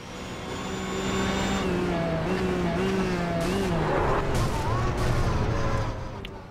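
A race car engine roars steadily from onboard during the 3 Hours of Zolder, its pitch rising and falling through gear changes, with sharp pops near the end.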